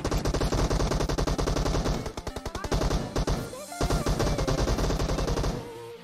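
Rapid automatic gunfire from a team deathmatch video game, dense and loud with continuous bursts and a brief lull midway, filling the whole stretch.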